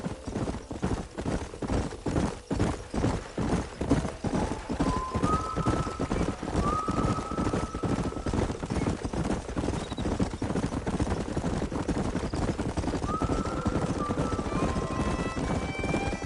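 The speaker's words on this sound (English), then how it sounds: "There's the horses!" Horses in the Red Dead Redemption video game, rhythmic hoof clip-clops at a gallop with intermittent neighs and whinnies rising over the steady drumming.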